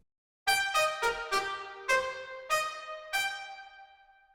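Trumpets, woodwinds and piano in an orchestral arrangement sound seven bright, ringing chords in a short phrase, each a sharp attack with a decaying tail, clear and alone with no voices.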